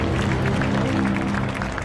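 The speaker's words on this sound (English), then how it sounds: "Clap, some more clap." Applause sound effect played on a podcast, a steady dense wash of clapping filling the whole stretch at even loudness, with a faint hum of voices or music beneath.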